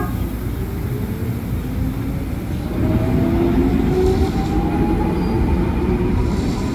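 A KRL Commuter Line electric train rolls through the upper level of Manggarai station in Jakarta, with a steady rumble of wheels on rails, rising gliding squeals and a slight swell in loudness midway.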